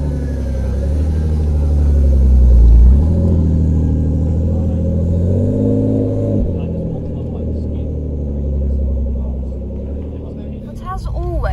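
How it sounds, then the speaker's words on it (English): A Toyota Supra pulls away from a motorcycle café meet, its engine rumbling and swelling as it accelerates, then fading under crowd chatter and nearby voices. "Well, the lovely Supra's going out."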